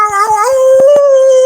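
A man mimics a wolf with his voice on a werewolf-themed podcast, giving a sustained, wavering howl that rises then holds a steady tone, close and loud, with faint clicks beneath.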